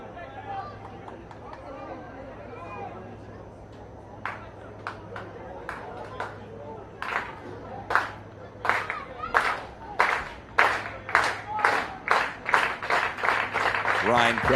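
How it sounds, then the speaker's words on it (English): Home football crowd at a rain-soaked MLS NEXT Pro match between Orlando City B and Columbus Crew 2, clapping in a steady rhythm that builds louder and faster over crowd chatter ahead of a corner kick. "The home crowd that stuck through the rain, making a bit of noise before that corner was taken."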